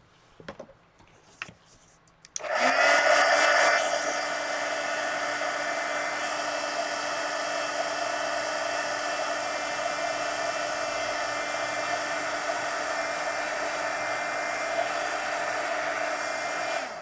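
A hair dryer runs steadily at close range to dry a mixed media art card, starting abruptly after a few faint handling sounds and holding a constant whooshing hum with a whine.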